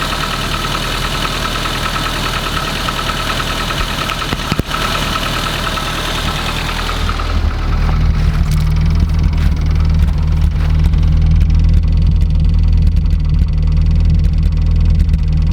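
A small classic Mini 1275cc A-series engine idles steadily with a throbbing, slightly uneven rumble; partway through the tone deepens and grows a bit louder, then keeps running.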